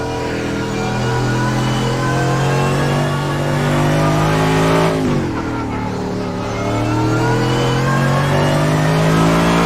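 A Mercedes-AMG GT3 race car engine in a sim racing game on the Nürburgring drones loudly and continuously, its pitch dipping at a gear change midway before climbing again.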